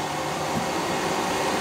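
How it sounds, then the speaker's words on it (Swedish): Steady, loud broadband whir of the CPU cooling fan on a Raise3D N1 3D printer, a constant airy hum that runs unbroken through the whole moment with no voices. "Det är bara synd att det är en sån högljudd fläkt till CPU."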